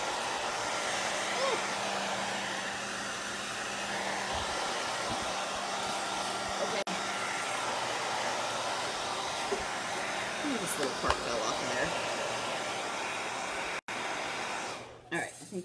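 A hair dryer blows steadily while drying a painted wooden birdhouse box, a close continuous whoosh running throughout with brief interruptions near the end and a few faint background sounds.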